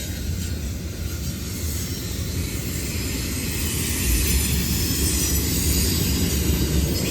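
A Norfolk Southern freight train rolls past close by, a steady loud rumble of wheels and rail cars with occasional squeal and clatter that swells slightly toward the end.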